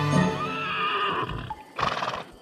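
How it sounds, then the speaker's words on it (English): Cartoon horse neighs with a long, wavering whinny, then a burst of clip-clopping hooves follows after a short pause, all loud and close with no talking. "she thinks she hears the headless horse"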